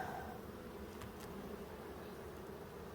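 Honey bees buzz steadily in an opened hive box while breeder queens are being selected, a dense, continuous hum close by with no break or voices over it.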